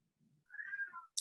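A pet cat gives a single drawn-out meow, fairly faint and close by, with quiet room noise before it and a short sharp click at the end.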